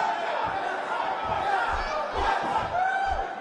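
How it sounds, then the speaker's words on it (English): A wrestling arena crowd roars and shouts before a women's match, a dense, loud, continuous din close around with low rhythmic thumps underneath. "it sounds to me like the crowd is more than ready for this one"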